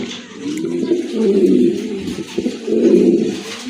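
Pigeons for sale, including a large male, coo steadily in two rolling, throaty bursts at moderate volume, with no talking over them.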